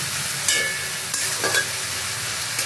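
Tomatoes sautéing in a pan with cumin powder, giving a steady close sizzle broken by a few scraping stirs of a utensil, with no voices.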